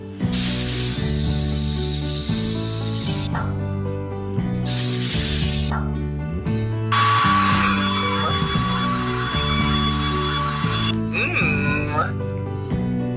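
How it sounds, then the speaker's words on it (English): Hair spray in a kids' supermarket video game hisses in three bursts, two short and one longer, over looping cartoon background music. "Let's spray her hairs."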